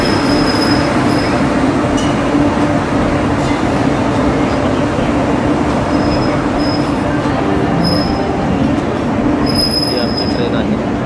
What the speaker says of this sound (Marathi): हे नागपूर रेल्वे स्टेशन प्लॅटफॉर्मवर आलेलं आहे। ही आमची ट्रेन आलेली आहे।